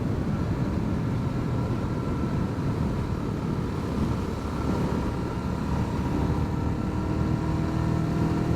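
A Hyosung GD250R 250cc single-cylinder motorcycle being ridden gives a loud, steady exhaust drone that runs unbroken throughout, with no talk over it.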